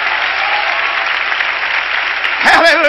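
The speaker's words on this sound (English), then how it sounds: "Clap your hands again to the Lord." Worshippers at a 1998 church revival service clap their hands loudly and continuously; near the end the clapping thins as a voice rises over it.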